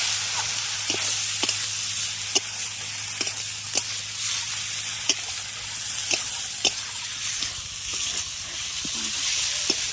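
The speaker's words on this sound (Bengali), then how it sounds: "পোস্তর বাটাটা দিয়ে খুব ভালো করে কষিয়ে নিলাম" Poppy seed paste and green chili sauté in a hot pan, giving a steady close sizzle and hiss broken by regular sharp clicks of a spatula stirring against the pan, with no talk.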